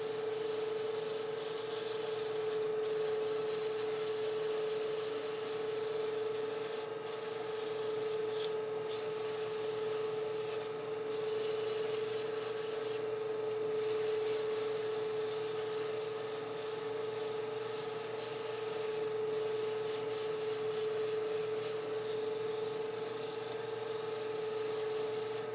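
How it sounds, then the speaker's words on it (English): Sandpaper rubs back and forth across the curved bottom of a handmade wooden scoop, a steady soft rasping that continues for a long stretch over a constant background hum. "I now can come in with some sandpaper, clean up the bottom, perfect the curve"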